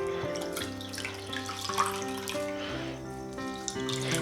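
Running tap water pours steadily over a second-hand Gucci luxury bag as it is rinsed, making a continuous close splashing flow with no talking.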